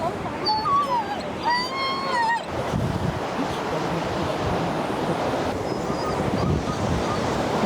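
A little King Charles spaniel at an outdoor dog class gives a few high, whimpering whines up close. Steady gusty wind noise follows and fills the rest.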